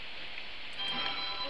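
Steady rain in the game Don't Starve hisses down as a dense, even downpour, with faint electronic tones rising over it midway.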